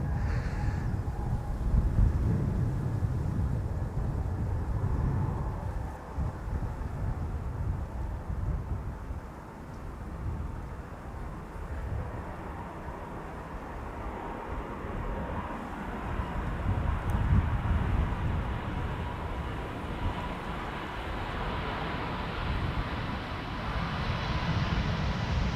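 A KLM Embraer 195-E2 jet sits on the runway at Amsterdam Schiphol in crosswind conditions, a low steady engine rumble and faint whine beneath gusty wind noise on the microphone.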